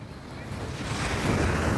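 Ocean waves wash steadily onto a seashore, a continuous broadband rush building slightly louder toward the end, mixed with wind buffeting the microphone and no voices.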